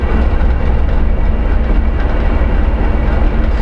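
Heavy low diesel roar of a ChME3 shunting locomotive under traction, heard from inside the cab, a loud constant engine drone with rumble and no speech.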